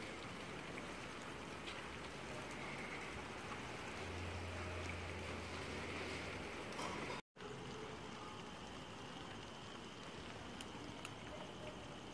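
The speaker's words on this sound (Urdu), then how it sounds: "یہ ابھی بارش ہو رہی ہے" Rain falling outdoors during cool, breezy weather, a faint, steady hiss of drops across the whole stretch with a momentary dropout partway through and no voices.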